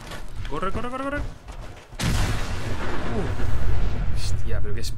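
A sudden loud blast in Fallout 4, followed by sustained rumbling noise and crackling debris, with a voice talking over it beforehand.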